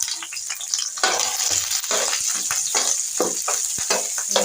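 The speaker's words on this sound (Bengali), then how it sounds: "আমি এখানে পেঁয়াজ আর কাঁচামরিচটা দিয়ে দিচ্ছি।" Chopped onions and green chillies hit hot oil in a pan, crackling and sizzling loudly with bursts of stirring and spatula scrapes, close up and without talk.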